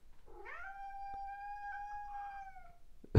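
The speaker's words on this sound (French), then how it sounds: "c'est mon chat qui veut sortir par cette fenêtre alors qu'il y a une fenêtre à côté qui est ouverte" A house cat gives one long, drawn-out meow at a window, rising at the start and holding steady for close to three seconds. It sounds near and clear, and a short thump follows at the end.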